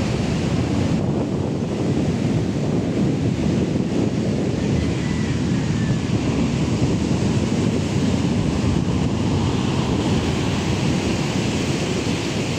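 Ocean waves surge onto a beach resort in a continuous, heavy roar of surf, with wind buffeting the microphone and no voices, the rushing water loud and unbroken throughout.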